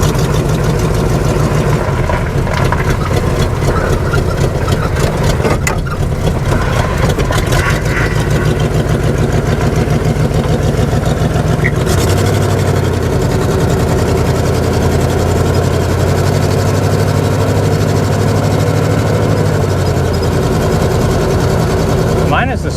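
A Chevrolet Monte Carlo SS, abandoned and sitting for twenty years, runs steadily while being driven, a loud continuous engine drone that shifts in pitch partway through, close and unbroken.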